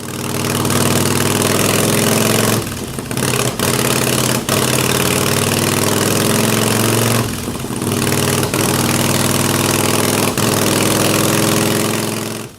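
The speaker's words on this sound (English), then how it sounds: "This is typical behavior for an engine that's jetted too lean." A loud motorcycle engine with an S&S carburetor jetted too lean runs unevenly close by, its steady drone broken by a few abrupt stumbles and cutouts like misfires.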